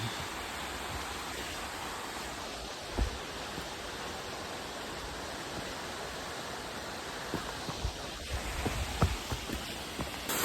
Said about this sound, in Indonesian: Ini airnya cukup deras karena musim hujan.